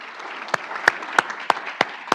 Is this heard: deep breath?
no